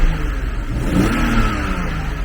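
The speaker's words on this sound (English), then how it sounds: "the motor seems to run and sounds fine" A drift-build car's motor runs close by after its MAF sensor was cleaned, with a steady mid-pitched drone and a mild rev swell about midway, no talking.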